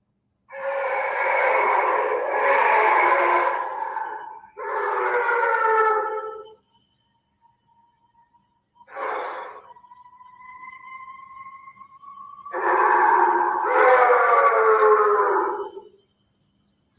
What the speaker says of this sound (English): you can hear them all talking, like howling back and forth, like in the back